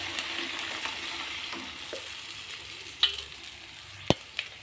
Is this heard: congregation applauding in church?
no